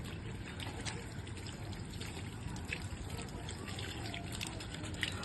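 Water poured during bathing, a soft continuous splashing trickle at close range, fairly quiet throughout.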